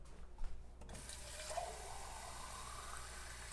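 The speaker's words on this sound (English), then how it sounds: "I'm going to add a touch of water to this and then roast it." Water poured into a roasting pan holding a lemon thyme chicken, a steady soft stream splashing and running for a few seconds after some brief handling noises, quiet and close.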